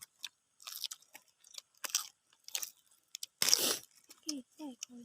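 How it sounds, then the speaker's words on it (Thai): Crunchy seafood, squid in a spicy papaya salad, being chewed close to the mic, with repeated crisp bites and crunches interspersed with short bursts of speech. "อาหารทะเลกรุบกรับกรุบกรับ"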